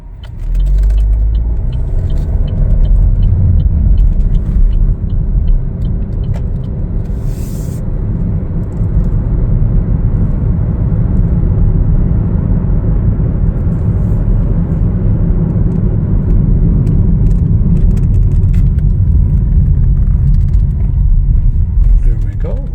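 A 2023 Chevrolet Trailblazer FWD LT cruising on a road, giving a steady low engine and tyre rumble with road noise inside the cabin, continuous and fairly loud throughout.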